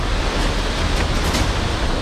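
The swollen Song river in flood in Dehradun roars as a steady, dense rush of churning water, loud and unbroken, with no voices.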